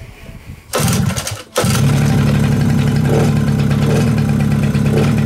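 A 1998 Suzuki LT50 quad engine bursts into a loud, steady mid-pitched running drone, cuts out for a split second, then catches again and keeps buzzing evenly close by.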